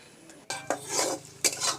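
A spoon knocks and scrapes through thick batter in a bowl as masala is mixed in, a quiet start followed by three sharp clinks with wet stirring between them.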